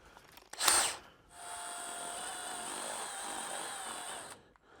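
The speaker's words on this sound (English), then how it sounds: "They fit into an electric drill." An electric drill fitted with a disposable paddle runs steadily for about three seconds, mixing wood oil, with a steady whirring whine after a short clatter at the start, close and moderately loud.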